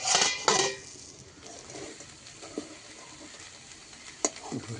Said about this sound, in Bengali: সমস্ত কাঁকড়াগুলো ছাড়ানো, যে কাঁকড়াগুলো, সেই কাঁকড়াগুলো দিয়ে দিয়েছি